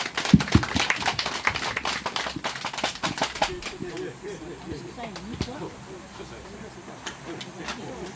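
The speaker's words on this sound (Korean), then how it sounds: "박수 한번 칩시다" Residents at a village meeting about stray dogs clap briefly at the close, a short burst of sharp, near hand claps that fades within a few seconds and gives way to murmured voices.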